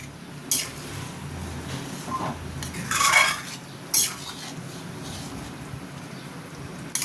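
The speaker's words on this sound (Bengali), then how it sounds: "এটা একটু নাড়িয়ে দিলাম, নাড়িয়ে আবার আমি ঢাকা দিয়ে দেবো।" Spoon scraping and stirring chicken chap with cashews in a metal pot, a few clanks and scrapes against the pan, close, with no talking.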